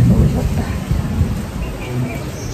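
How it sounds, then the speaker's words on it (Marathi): Rain falls steadily outdoors on a street early in the monsoon season, a dense close patter with low rumbling underneath that may be distant thunder. "खूपच लवकर पावसाला सुरुवात झाली"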